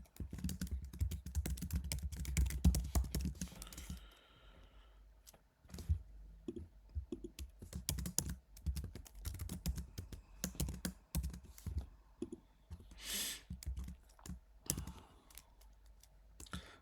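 Someone types on a computer keyboard with dense rapid clatter at first, then after a brief lull goes on in scattered bursts of key presses and clicks, close and clear with no talking.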